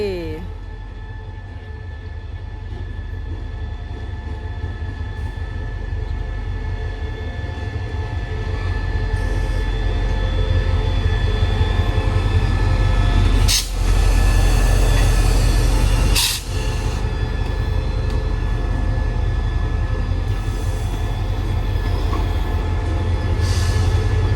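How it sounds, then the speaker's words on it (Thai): Express train Thaksinarath No. 32 from Hat Yai Junction rolls into the long-distance depot yard at Bang Sue, a loud sustained rumble of wheels and engine with brief hissing bursts, while people talk over it. "ขบวนรถด่วนพิเศษ ทักษิณารัฐขบวนที่ 32 จากชุมทางหาดใหญ่ครับ เข้าสู่ย่านแอลดี"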